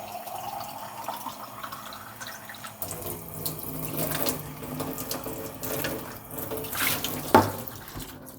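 A sink hose runs water to fill a Bonavita coffee maker, a steady splashing gush from the tap that starts after a quiet moment and continues with shifting pouring and filling sounds, no speech.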